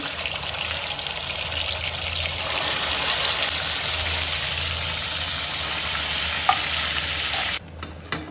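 Whole spices, cinnamon, cumin, shahi jeera and cardamom, fry with mutton in a pot, a loud continuous sizzle and hiss with stirring scrapes under it, cutting off abruptly near the end.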